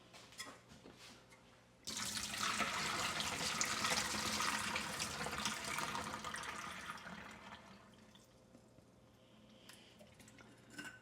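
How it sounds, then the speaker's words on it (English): Brine pours off eggs through a strainer, starting suddenly as a close, full splash of liquid and then tapering to a softer trickle. No voices are heard. "We're just going to strain all of the brine off of them."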